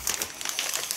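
An Ozon plastic delivery bag crinkles and rustles up close, a brief run of crisp, continuous crackling handled by someone.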